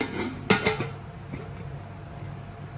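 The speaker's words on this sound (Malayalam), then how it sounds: "അപ്പോൾ നമുക്കത് മൂടി വെച്ച് വേവിക്കാം" A metal lid set down onto a pot of boiling ghee rice, one sharp clang followed by a couple of lighter rattles, close by, then a steady low bubbling hum.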